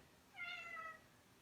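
A pet cat crying indoors, one drawn-out, mournful meow heard alone against quiet room noise, fairly faint.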